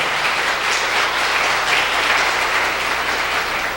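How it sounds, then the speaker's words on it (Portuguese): A church congregation gives the children a round of applause at a worship service, dense sustained clapping from many hands filling the space evenly for the whole stretch. "quero pedir à igreja para nós darmos uma salva de palmas para as crianças"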